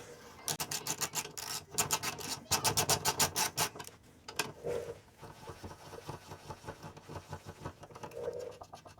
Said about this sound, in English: So just gonna go and unscrew these with a 3/8.